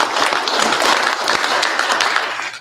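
Audience applause fills a hall at a drag racing awards ceremony, dense and steady clapping throughout before cutting off abruptly near the end.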